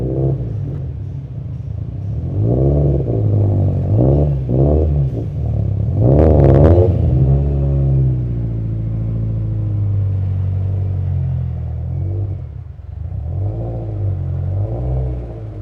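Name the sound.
race car engine revving on a dyno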